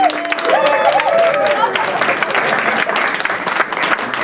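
Concert audience at Le Cap in Aulnay-sous-Bois applauding, a dense, steady wash of clapping from a large crowd that carries on throughout, with a brief sung or whistled tone rising above it at the start.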